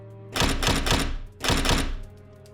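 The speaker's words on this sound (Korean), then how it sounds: "여자는 심술이 났는지 문고리를 잡고 마구 흔들기 시작했다" A door handle on a locked traditional paper-screened room door is rattled violently for a horror audio drama, two bursts of rapid, loud clattering thumps separated by a brief pause, with no voices.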